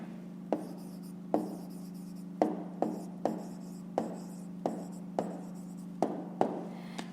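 Pen writing an answer by hand on paper during a fifth-grade maths exercise, heard as a series of about a dozen sharp taps and short scratchy strokes over a steady low electrical hum, with no talking.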